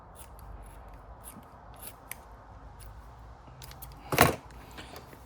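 Scissors cut through a thick, paper-like shoe insole, with soft intermittent snips and rustles and one louder, crisp cut near the end, heard close and alone.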